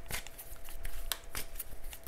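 Cards of an oracle deck being shuffled in a quiet room, giving a few soft riffling bursts and light snaps over about two seconds, close and moderately quiet, with no talking.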